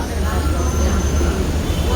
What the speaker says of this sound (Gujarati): गेली आता ती ट्रेन, आता आली होती ती ट्रेन गेली.